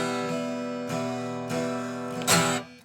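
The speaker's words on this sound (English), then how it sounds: "It's like they get a little hop in their strumming." Guitar chords strummed with an uneven hop in the rhythm and tense upstrums, close and clear, a few strokes with a sharper, brighter upstroke near the end, heard alone.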